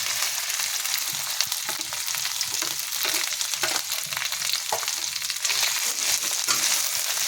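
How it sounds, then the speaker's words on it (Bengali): Kharkol leaf paste frying with browned onions in a pan, a steady loud close sizzle with soft stirring scrapes throughout, no voices. "এবার এই ভাজার মধ্যে আমি এই খারকোল পাতা বাটাটা দিয়ে দিচ্ছি।"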